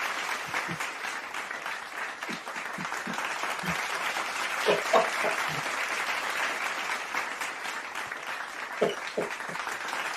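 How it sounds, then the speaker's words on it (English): An audience claps steadily through a comedian's introduction, a sustained, moderately distant round of applause with scattered louder hand claps. "The extended applause."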